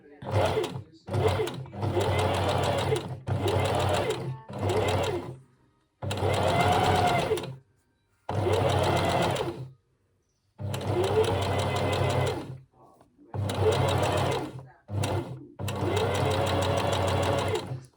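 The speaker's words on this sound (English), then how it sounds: "I don't run over it with my sewing machine" A sewing machine runs in steady bursts of rapid stitching, stopping and starting repeatedly with short pauses between runs.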